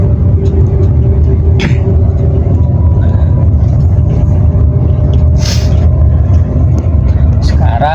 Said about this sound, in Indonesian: posisi mobil kan sudah berjalan lumayan agak kencang ya. Nah, ini berada di gigi 3